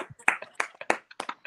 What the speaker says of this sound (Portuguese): Ah, claro, aplaudir o Mister